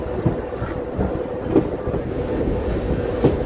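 A MEMU passenger train rolls into Pedana railway station, its steady low rumble broken by periodic clacks of wheels crossing rail joints, close and continuous without pause.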